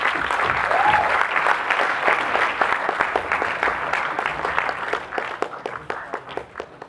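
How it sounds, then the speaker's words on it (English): Audience applause after a parliamentary debate final, with many hands clapping loudly at first and gradually thinning into scattered claps. "Requesting the crowd for a large round of applause for the two teams for a fantastic debate."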